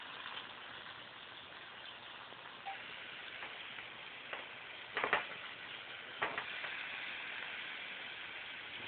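Water is poured into a mixture that includes a cup of butter, giving a faint, steady trickling hiss with a few soft splashes partway through.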